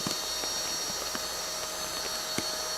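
A VacBird electric pump sucks air from a vacuum seal bag with a steady, whining motor drone, close and constant, with faint ticks scattered underneath.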